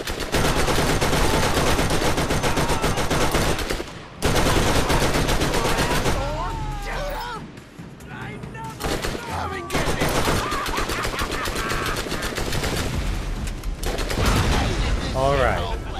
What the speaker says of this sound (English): you should be able to use a fully automatic weapon and do exactly what I did there